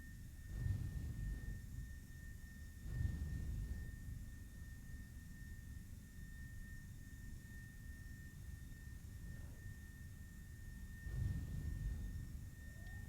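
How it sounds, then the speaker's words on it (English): A Boeing 747 in a flight simulator rolls down the runway for takeoff. Steady jet engine roar with low rumble and a faint constant whine, swelling slightly at intervals, without speech. "the 747 does seem very slow down a runway"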